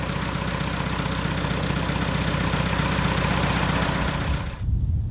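Old JCB 3C backhoe loader diesel engine running steadily at a loud, close idle with a deep low rumble, then cutting out abruptly near the end.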